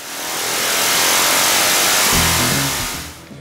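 A 1999 Harley-Davidson Dyna Glide with S&S drag-pipe exhaust and carb jetting revs on a Dynojet 250i dyno. One loud, close pull swells quickly, roars at full throttle, then drops away to a lower idle burble.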